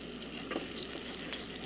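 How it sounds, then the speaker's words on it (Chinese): Floured cod fillet pan-frying over high heat, a soft, steady sizzle and crackle heard close up but quietly, with no talking. "好了，就这样子下锅来煎，要不停的"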